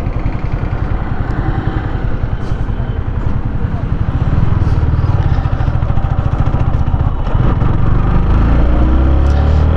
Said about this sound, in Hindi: फिर से एक बार खींचते बाइक।